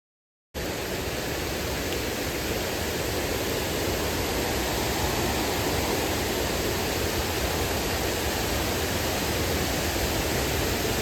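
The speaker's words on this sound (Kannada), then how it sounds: "ಸೊ ಜಲಪಾತ ನೋಡಬಹುದು" A forest waterfall reached after a short walk in the rain, a loud, unbroken broadband roar of falling water that starts suddenly and holds steady throughout.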